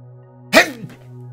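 A single sharp human sneeze, close and loud, set against a steady electrical hum, followed by a brief softer breath.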